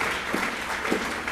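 A congregation clapping hands in church, a dense continuous patter of many hands with a couple of louder swells, brief and close.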